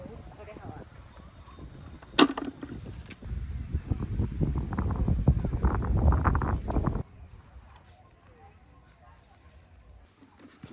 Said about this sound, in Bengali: আমার বালতি চলে যাচ্ছে হাওয়া হচ্ছে এত